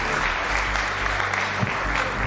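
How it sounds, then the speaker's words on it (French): Spectators at the French robotics cup finals applaud the INSA Rennes team after a match, sustained dense clapping from a large crowd in a reverberant hall with a low rumble underneath. "On applaudit très fort INSA Rennes face à Focus Robotique"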